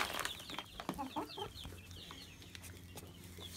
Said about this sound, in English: She's my favorite chicken.